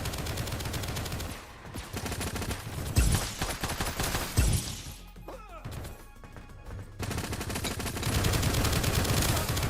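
Gunfire in the video game Project Onyx: several sharp bursts of shots and crashing impacts, loud and close, separated by brief quieter gaps, with no talk.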